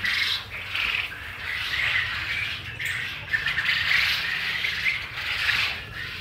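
Quail calling in their pen, a steady chorus of squawking and chirping calls from many birds, fairly close and continuous with no talking.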